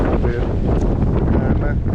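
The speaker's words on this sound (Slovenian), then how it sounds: "Danes naj bi bilo še tako vetrovno vreme" Strong wind on a sailboat at sea: a loud, constant roar buffets the microphone for the whole stretch, with no break or lull.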